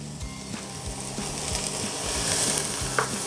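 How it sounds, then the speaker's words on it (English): Chopped onion sizzles in olive oil in a pan as it is stirred, giving a steady frying hiss with repeated scraping clicks from the spoon. "So I've got 1 chopped onion. So I'll put that into the pan."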